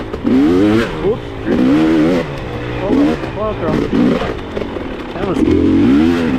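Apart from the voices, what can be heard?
dirt bike engine revving uphill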